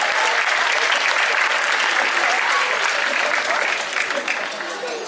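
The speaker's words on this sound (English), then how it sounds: "How about we give her another big round of applause?" Loud, dense applause from an audience at a tiger presentation, steady clapping filling the space throughout and tapering slightly near the end.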